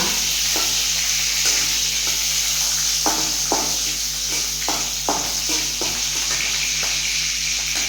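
Onion, curry leaves and mustard seeds frying in hot oil, a loud continuous sizzle with occasional spoon stirring and scraping against the pan, close and alone.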